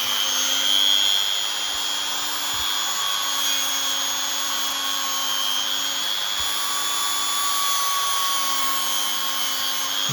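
A Dremel-type rotary tool spinning at high speed for sanding, a steady loud whine with strong tonal hum held evenly throughout, no voices.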